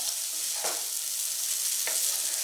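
Rice stirred together with turmeric-fried oil and tempering for wild amla pulihora, a steady hiss broken by two soft scraping strokes of the spoon, close and alone.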